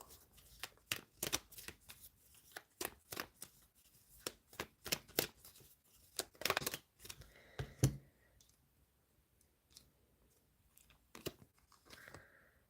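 Tarot cards are shuffled close up in a brisk series of riffles and flicks. A few softer shuffles and taps follow near the end.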